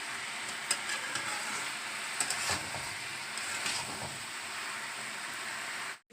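Vegetables frying in oil in a pan give off a steady, close, dense sizzle that runs unbroken for several seconds, then cuts off abruptly near the end.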